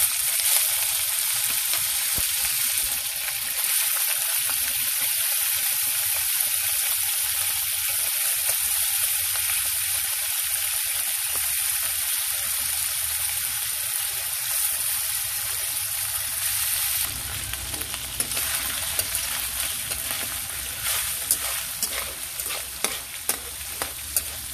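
Pork fries in a pan with a bright, constant sizzle, joined later by busier scraping and stirring strokes with irregular clicks toward the end.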